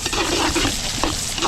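Garlic and onion sauté in a pan with a dense, loud sizzle while a spatula stirs and scrapes through them, continuous and close with no talking.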